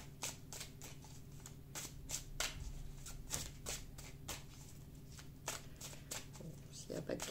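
A deck of Sacred Heart oracle cards is shuffled by hand in rapid rhythmic riffles and flicks, close and quiet, under a continuous low hum, with a voice speaking faintly in the background.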